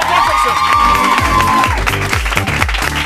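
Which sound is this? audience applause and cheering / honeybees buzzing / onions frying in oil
audience applause and cheering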